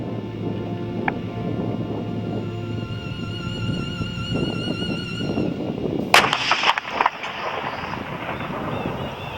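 A single ship's cannon fires outdoors during a sound-design recording session for a naval cannon duel. It is one sharp, loud blast about two-thirds of the way in, rising over a steady ambient hum with faint high tonal whines before it.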